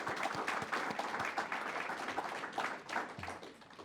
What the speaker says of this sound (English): let's do one more round of applause for all our students for pitching today